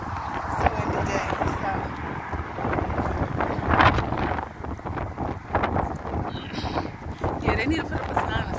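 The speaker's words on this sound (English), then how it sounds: "It's a windy day," Gusts of wind buffet the microphone with a constant low rumble, while people talk over it nearby.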